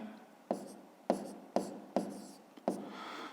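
Five quick pen or pencil strokes scratch across paper while a number is written by hand during a fifth-grade math exercise, each stroke a short rasp with a sharp onset, close and fairly quiet, with no talking.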